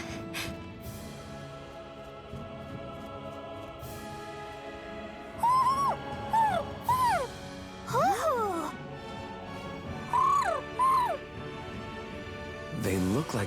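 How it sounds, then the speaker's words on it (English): In the Tales of Arise game, two owls trade short, wavering hoots in separate bouts over a soft background, with people talking around the calls. "He's probably happy to see another owl."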